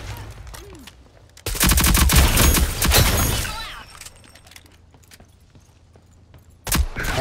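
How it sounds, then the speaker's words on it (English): Sniper rifle gunfire exchange in the video game Rogue Company: a loud burst of rapid shots and thuds runs through the middle, then fades, with a faint voice early and another sharp shot near the end. "Snipers are having a little battle."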